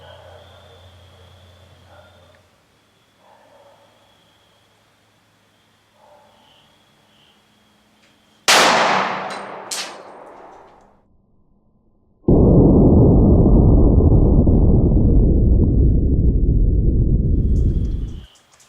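A .357 SIG Gold Dot round fires into a 16-inch clear ballistic gel block at an indoor range. After a quiet stretch comes one sharp, loud shot with a quick echo, and later a long, loud steady roar.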